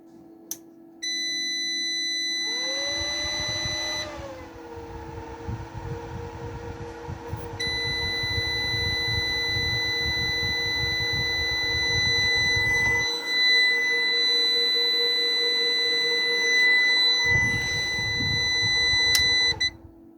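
A high electronic tone from an EAsun 4.2K solar inverter under 200 W load whines steadily throughout alongside a constant low hum, with intermittent bursts of rough buzzing noise; no voices.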